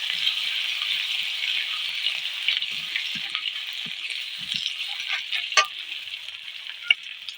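Chopped ginger fries in a pan with a bright, steady sizzle, while a utensil stirs and scrapes in quick irregular clinks and rattles close to the listener.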